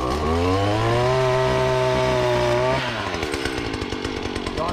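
A chainsaw cutting persimmon trees drones loudly at a steady high rev, then drops to a rougher, lower idle sputter near the end, close by with no talk.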